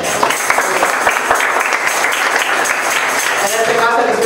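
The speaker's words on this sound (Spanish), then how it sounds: "le dieron un aplauso" A class in an English lesson breaks into applause, a dense, even patter of many hands clapping at close range with a few voices mixed in.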